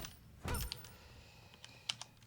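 Quiet computer keyboard typing, a few scattered soft key clicks and one slightly louder thump near the start, heard alone at low level without talking.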